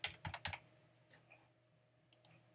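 Short bursts of computer keyboard typing as a folder name is entered, a quick cluster of keystrokes at the start, a pause with a few faint clicks, then two more sharp taps near the end, close and quiet with no talking.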